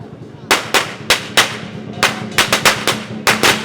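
Firecrackers at a Chinese New Year parade in Vancouver's Chinatown crack in a rapid, irregular string of sharp, loud pops over a background crowd murmur.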